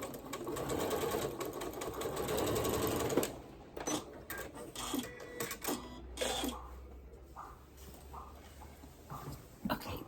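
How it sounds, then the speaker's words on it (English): Sewing machine stitching a French seam, a steady run of mechanical stitching for about three seconds, then short stop-start bursts and handling clatter with pauses. "and then sew down the center."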